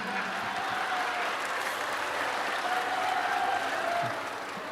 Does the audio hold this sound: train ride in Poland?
no